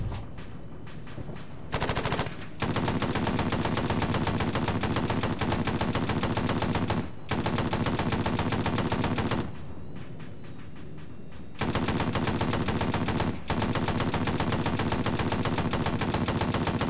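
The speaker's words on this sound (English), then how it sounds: "M2 makes such short work of vehicles like it." An M2 heavy machine gun fires long sustained bursts at an anti-air Tunguska vehicle in a tank battle game, loud rapid chattering broken by a few brief pauses.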